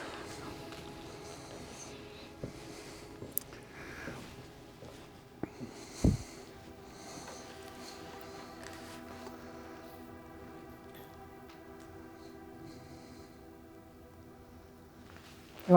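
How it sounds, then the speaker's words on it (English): Steady low rumble of road traffic drifts in from outside near a parking area where a vehicle is backing up or pulling in, faint and continuous across the whole stretch with a few small knocks and no talking. "A lot of road noise you can hear."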